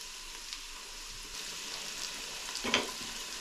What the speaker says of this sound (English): So the recipe says to cook off the peppers and the tikka masala paste 5 minutes.